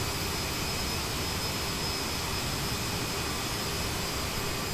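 Jet engines of an aircraft in flight as the throttles are eased back, a loud, steady, broadband roar with no pauses.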